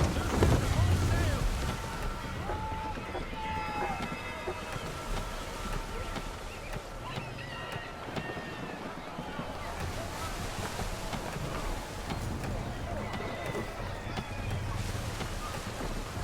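A sailing ship at sea in the video game Assassin's Creed III: steady wind, rushing waves and creaking hull fill the scene continuously, with voices speaking over the ocean noise.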